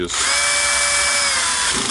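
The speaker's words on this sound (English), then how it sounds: "I will just blow out some dust with a compressed air here" Compressed air hisses in a loud, continuous close-up blast as dust is blown out of a Makita DDF484 cordless drill, steady for nearly two seconds before cutting off.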